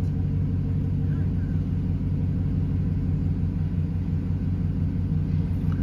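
A Chevrolet Silverado pickup truck engine with Flowmaster exhaust idles with a steady, deep, throaty rumble, the idle fluctuating slightly, close by and continuous, with no voices over it.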